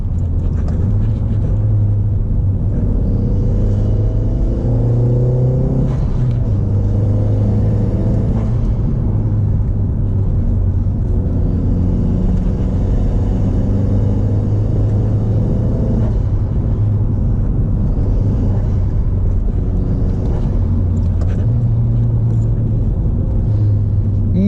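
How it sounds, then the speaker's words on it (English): A Mk1 Audi TT 225 8N on Bilstein B12 Cup coilovers cruises down a road, its engine a loud, steady low rumble from inside the cabin with slight rises and falls in pitch, no voices. "Driving this car on a road like this"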